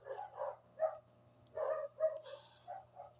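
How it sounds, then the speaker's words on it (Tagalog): Several dogs bark and yip in a distant, muffled series of short bursts over a steady low hum. "ingay ng mga aso"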